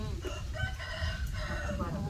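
A rooster crows a couple of times, fairly faint and somewhat distant, over a low background rumble with no talking.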